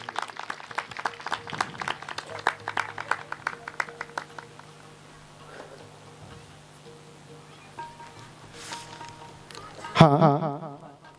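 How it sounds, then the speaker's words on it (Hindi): Audience applause at a live devotional Manas singing competition in Piparbhatta, Bemetara, rising as a dense patter of many hands clapping, then thinning out before a brief loud burst near the end. "और एक बार जोरदार ताली चाहूं गजपति राम साहू जी के लिए"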